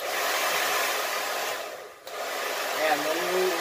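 Kiki professional two-speed hair dryer blowing steadily and loudly, with a brief dip as it is switched off and back on, then a rising whine and faint speech as the speed changes.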